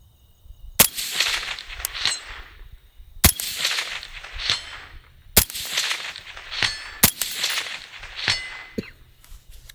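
A CZ Bren 2 rifle firing single gunshots at a shooting range, about five sharp, loud reports spaced a couple of seconds apart, each ringing out briefly with no talking.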